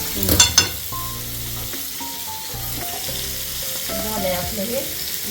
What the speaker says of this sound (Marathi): मस्त मस्त मच्छी फ्राय होत आहे